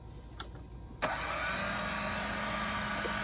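The motors of a cheap toy drone, bought for about $40, start with a sudden click and then settle into a steady, close, high whirring hum that holds level.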